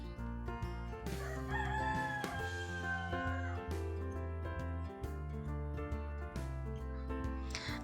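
Free-range flock of over forty chickens on a ginger-growing farm, with a rooster crowing in a long drawn-out call over a dense, steady layer of sustained tones.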